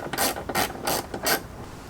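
A ratchet turning 10mm bolts on a Jeep Wrangler wiper motor carriage makes four quick, evenly spaced clicking sweeps, close and crisp, with no talking.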